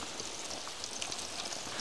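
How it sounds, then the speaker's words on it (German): Steady rain falling in a summer forest, a soft continuous patter of drops on leaves and ground, fairly quiet and even throughout with no voices. "fängt es wieder an zu regnen"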